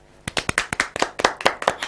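A few people clap for a guest on a studio talk-show set, with about a dozen sharp, separate claps in a quick uneven rhythm, close and crisp, after a short quiet start.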